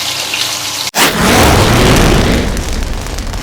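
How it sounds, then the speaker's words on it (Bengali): Cubed potatoes drop into hot mustard oil with a sudden loud splash, then a dense, continuous sizzle and crackle of frying that stays loud and close to the end. "তেলের মধ্যে মিডিয়াম সাইজের দুটো আলু ডুমো ডুমো করে কেটে নিয়েছি, সেটা ভালো করে ভেজে নেব"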